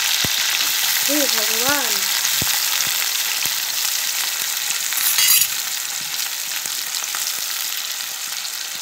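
Eggs fry in hot oil that sizzles and spatters steadily in a loud, constant hiss, with faint clinks and a brief exclaiming voice over the cooking.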